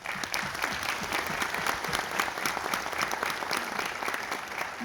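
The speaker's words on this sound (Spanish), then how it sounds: "Un aplauso para ustedes." An audience at a school welfare council meeting in a Spanish-speaking community breaks into sustained applause, a dense, steady wash of many hands clapping that lasts throughout.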